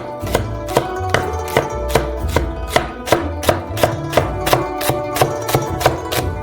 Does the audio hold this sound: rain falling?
no